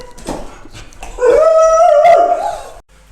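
Dogs named Fern and Scout give short yips and whimpers, then one long, rising whine held for over a second, loud and close.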